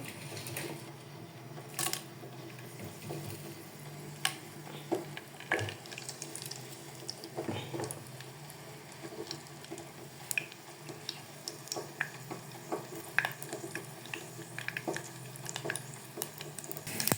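Mustard seeds crackle in hot sesame oil for a mango pickle, with a faint steady sizzle broken by many small scattered pops, close by but quiet, and no talking.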